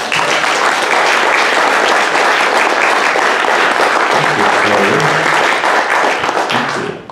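A Rainier Valley Historical Society audience gives the speakers Paul and Jean a loud, sustained round of applause, dense clapping from many hands that holds steady before tapering at the end.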